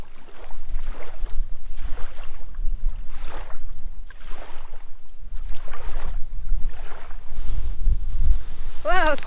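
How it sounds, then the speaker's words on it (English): Heavy wind buffeting a microphone at a lakeside van campsite in Finland, a steady low roar with repeated gusty surges throughout, ending with a brief chirping sound. "Wow, quite windy."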